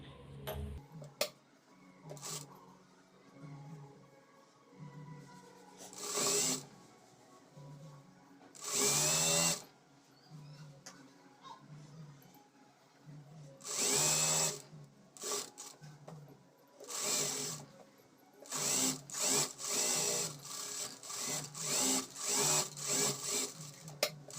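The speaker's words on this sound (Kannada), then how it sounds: "ಈಗ ಲೈನಿಂಗ್ ಪೂರ್ತಿ ಸ್ಟಿಚ್ ಮಾಡ್ಕೋಬೇಕು" A sewing machine stitches blouse lining in short, loud bursts of rapid mechanical whirring, separated by quiet pauses, with the runs coming closer together toward the end.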